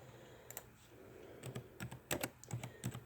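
Close, quiet typing on a computer keyboard, a quick irregular run of key clicks that grows busier in the second half over faint room noise.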